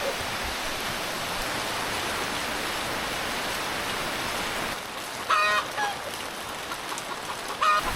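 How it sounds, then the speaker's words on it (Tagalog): Steady rain falls outdoors, a dense, even hiss for most of the clip before it thins, with a few honking or squawking calls and brief voices breaking through near the end. "So ngayon, umulan naman."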